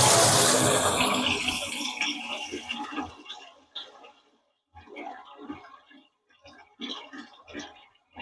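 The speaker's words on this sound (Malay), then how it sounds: "So lagi ada air yang keluar kat sini" Water rushes loudly from a pipe under a slow-draining sink during maintenance, close and strong at first, then tapering off in about three seconds as a person begins talking over faint trickles.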